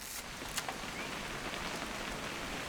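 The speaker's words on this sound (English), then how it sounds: "It's gonna rain the whole weekend," Steady rain patters continuously in the video game What Remains of Edith Finch, a soft hiss of drops on surfaces with a couple of brief louder taps near the start.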